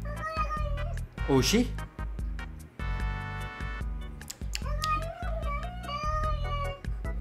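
A cat meows and lets out a yowling cry, sharp rising and falling calls that burst out over a steady background, while people talk throughout.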